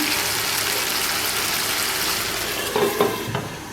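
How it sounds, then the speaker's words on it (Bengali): Hilsa fish curry with potato and brinjal simmers and sizzles steadily in a pan after the lid is lifted. A few stirring scrapes and knocks come near the end. "ঢাকনা সরিয়ে তরকারিগুলো নাড়াচাড়া করে দিলাম"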